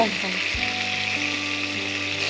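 Hot oil sautéing in a pan during Bengali home cooking, a continuous bright sizzle heard close and fairly loud, with a faint low tone running underneath and no talking.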